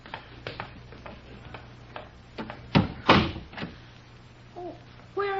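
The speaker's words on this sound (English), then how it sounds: "I'll close the door after me." An interior door swinging shut at the top of a flight of steps in an old radio mystery drama, with a few light clicks and knocks leading into a heavier thud near the middle and a faint tone afterward.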